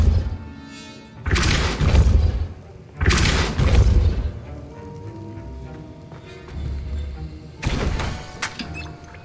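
Depulso spell effects in Hogwarts Legacy: three loud, booming blasts with a crashing, shattering edge, separated by quieter gaps of lingering ambience.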